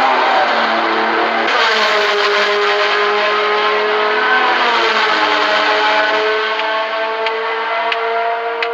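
A race car engine at the 1975 Le Mans 24 Hours, with a Ligier JS2 and a Gulf in the race, holds a loud, steady whining note whose pitch rises and shifts as it passes close by.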